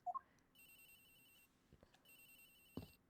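A phone rings in the video game Ace Attorney Investigations, a faint high electronic trill repeating in two bursts over quiet background, with a couple of soft clicks.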